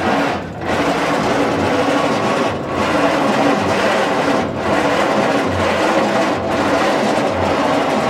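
Starter of an old 1940s Bay City crane engine, abandoned for years, cranking on a 6-volt system: a continuous, labored churning drone at steady loudness with faint periodic dips, near and alone.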